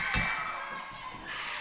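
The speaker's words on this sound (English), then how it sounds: "Keep ringing the bell." A wrestling ring bell at an NWA show gives one sharp metallic clang that rings on briefly, with busy arena noise underneath.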